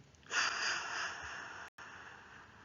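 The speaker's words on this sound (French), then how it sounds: "Soufflons, expirons pour chasser le négatif et le jeter." A single forceful exhaled breath blown out through the mouth during a relaxation breathing exercise, a steady airy rush lasting over a second and heard alone, close and clear.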